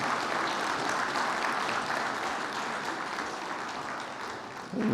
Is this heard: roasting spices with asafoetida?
no